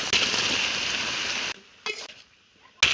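Pasta sizzles in a pan with oil, tomato sauce and soy sauce. A loud frying hiss runs for about a second and a half, then cuts to quiet with brief bursts of stirring.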